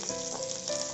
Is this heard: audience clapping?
no